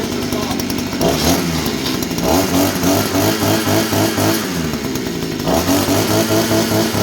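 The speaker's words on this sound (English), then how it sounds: "I mean, yeah, it's the gas engine" A small gas engine bought on Temu runs loud and close, its buzzing, rattling drone shifting pitch as it revs up and settles back, without pause.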